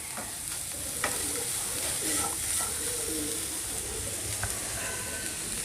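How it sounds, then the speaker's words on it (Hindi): Chopped onion frying in a pan for keema samosa, a soft continuous sizzle with occasional stirring scrapes, fairly quiet, and birds cooing faintly in the background. "अब प्याज ट्रांसपेरेंट होने तक पकाएंगे।"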